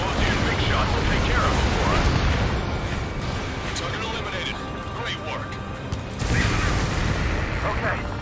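Rumbling bursts of gunfire and mechanical noise in Ace Combat 7 fill the background, with a person talking over it throughout.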